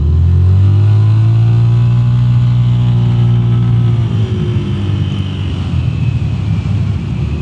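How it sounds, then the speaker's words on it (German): Lambretta G350 retro scooter with a deep, muffled exhaust note, its engine droning loud and steady close by, holding one tone before the roar turns rougher and slightly rising near the end. "Auspuff klingt gut, nicht zu laut, trotzdem mal ein schöner dumpfer Klang"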